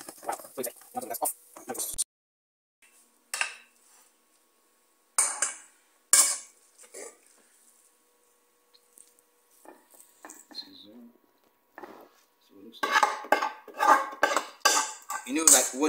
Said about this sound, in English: So we're stirring it. We're using a pestle.